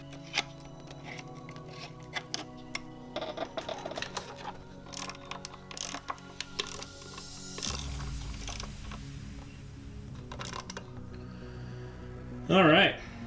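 A ratchet works a car's throttle body loose. Irregular bursts of quick metallic clicking sound close by, with shuffling mechanical handling noises and a short louder rattle near the end.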